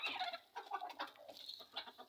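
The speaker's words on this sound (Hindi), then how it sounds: "तो फिर ये देखिए प्योर देसी मुर्गी हैं" Desi hens cluck softly and steadily inside a coop after rain, a faint, continuous flock chatter with no voices over it.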